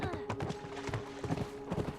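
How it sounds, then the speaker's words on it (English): Horse hooves galloping at a steady run during a chase on horseback in The Last of Us, rhythmic clip-clop thuds over a busy game soundscape with a faint voice. "You just have to keep running with your horse. Keep riding it."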